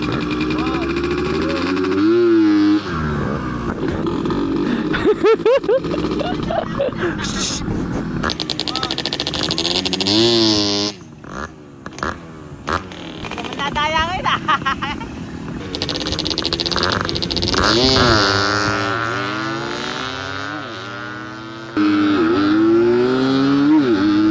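A two-stroke motorcycle engine at a drag race exhibition revs up and down in rising and falling sweeps, heard under near-continuous talking.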